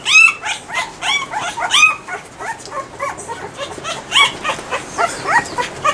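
Young puppies yipping and whimpering in a dense, continuous chorus of high, squeaky cries, close and fairly loud throughout.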